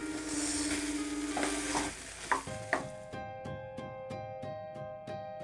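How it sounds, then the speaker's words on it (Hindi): Pumpkin for a sweet Himachali dham-style dish roasts and is stirred in ghee in a pan, with a steady sizzle that fades after a couple of seconds into quieter scraping and soft knocks. "अब यहाँ पे ऐड करेंगे हम घी और 3 से 4 मिनट तक इसको भून लेंगे अच्छे से घी में"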